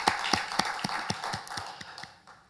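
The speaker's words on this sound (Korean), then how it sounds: "우리 살아계신 하나님께 영광의 박수 올려드리겠습니다." Church congregation applauding together, a brisk series of distinct, evenly spaced claps that keep fairly steady before thinning out toward the end, with no talk over them.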